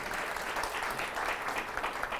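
Steady crowd applause from a seated audience at a Fathers Corps end-of-year celebration panel, a dense continuous patter of many hands filling the room without pause.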